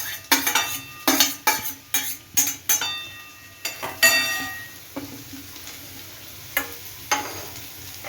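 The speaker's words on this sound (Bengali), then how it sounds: "একটু কড়াতে আমাকে এটা নেড়ে নিতে হবে।" Peas, carrots and beetroot stirred in a wok: a quick run of loud metallic scrapes and clinks from spatula on pan, easing into sparser strokes over a faint sizzle, with no talking.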